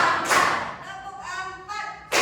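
A seated group of pupils claps together on a spoken count, giving short loud bursts of unison clapping with chanting voices between them.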